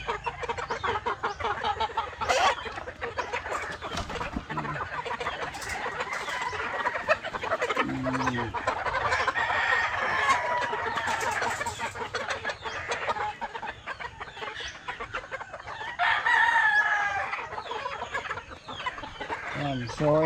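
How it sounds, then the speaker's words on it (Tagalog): Roosters and chickens on a farm, a mix of clucking and several crows rising and falling, moderately near, with someone talking intermittently over them. "Barako na mga yan."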